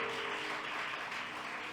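Audience applause at a Ram Katha gathering during a Navratri festival at an ashram, a dense continuous patter of many hands clapping together at moderate loudness, with no talk.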